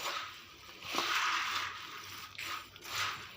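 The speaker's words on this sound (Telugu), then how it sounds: "చూడండి, కలుపుతుంటేనే ఎంత కరకరలాడే సౌండ్ వస్తుందో." Crunchy fried kara boondi snack being stirred and tossed, giving dry rustling crackles in short bursts, close and fairly soft.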